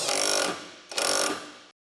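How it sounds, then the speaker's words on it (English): A power wrench with a 14mm socket tightens the sway bar link nut on a Honda Civic in two short whirring, ratcheting bursts separated by a brief pause, close and alone. "Use a 14mm socket with a power wrench to tighten the nut on the sway bar link."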